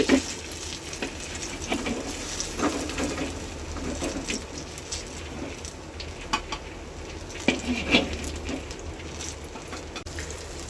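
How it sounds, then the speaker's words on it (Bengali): Raw banana fritters fry in hot oil with a continuous close sizzle, a few louder crackles and occasional stirring rising above the steady hiss. "অল্প অল্প করে আমি ভেজে নিচ্ছি।"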